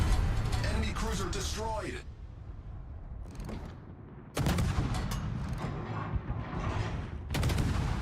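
Naval guns on a US cruiser firing in World of Warships, heavy booming salvos in rolling bursts with sharp drops between volleys, mixed with battle noise and someone talking over it.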